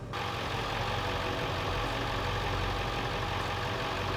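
A diesel truck engine runs steadily in four-wheel drive with manual locking hubs, a constant close, loud low drone with no break and no talking over it.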